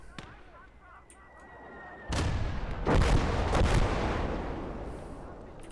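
Gunfire and heavy booms in the war game Call to Arms: Gates of Hell during a German conquest battle: a quiet stretch, then a sudden loud blast and a cluster of rumbling shots that slowly fade.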